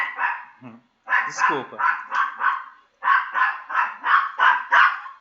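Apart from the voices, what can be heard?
pet dog barking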